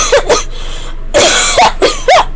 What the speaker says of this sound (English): In the darkness, some pony coughed.